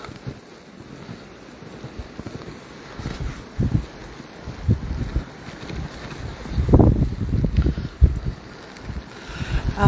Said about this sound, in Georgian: ზღვის პირისკენ, როდესაც მიდიხარ, რაც უფრო უახლოვდები, ეს ქარი უფრო ძლიერდება.